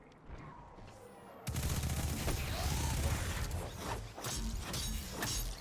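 Rapid bursts of weapon fire in the video game Destiny, loud and dense once they start after a quieter opening, with sharp cracks layered over a busy battle din.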